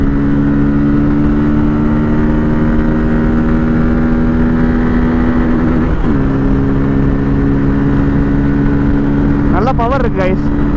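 Bajaj Pulsar N250 motorcycle running hard in third gear, a loud, steady engine drone heard up close with wind noise, its pitch dipping briefly partway through before holding level again.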